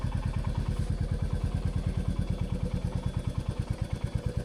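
A motorcycle engine running steadily near the mic as the rider shifts into first gear, with a fast, even thumping pulse and mechanical clatter, no talk.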